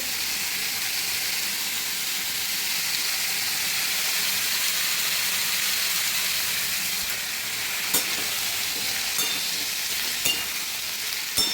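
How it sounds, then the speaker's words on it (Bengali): Continuous loud sizzling from a hot pan as soaked chana dal fries, hissing steadily, with a few sharp clinks of stirring near the end. "তারপর আমি ছোলার ডালগুলো যেগুলো ভিজিয়ে রেখেছিলাম সেগুলো দিয়ে দেবো"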